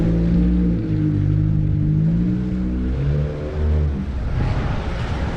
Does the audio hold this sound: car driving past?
yes